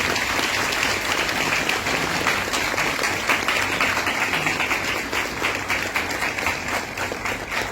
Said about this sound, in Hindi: जोरदार तालियां हो जाए मितेश भाई और किरण चटर्जी के लिए